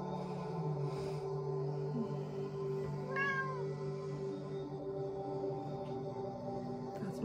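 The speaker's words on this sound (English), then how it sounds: "My cat Magic, just saying hi." A pet cat named Magic meows once, a short rising call in the middle, faint against a steady indoor hum, with no talking around it.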